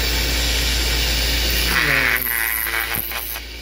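Homemade needle cutter spinning at 7,500 RPM and cutting into foam, a steady close mechanical whir that shifts into a raspier chattering tone as the foam meets the blade.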